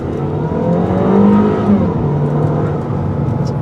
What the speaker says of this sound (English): So now I'm in first gear, and then you get the max acceleration